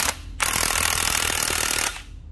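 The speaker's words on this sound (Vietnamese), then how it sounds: "còn cái này mà chỉnh lên là búa chạy luôn ha" A used Japanese cordless hammer drill runs in hammer mode for about a second and a half, a loud, steady, rapid hammering buzz close by that starts abruptly and cuts off.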